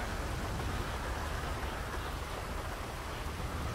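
Steady rain in GTA V, an even, unbroken hiss that fills the whole stretch without change or pause.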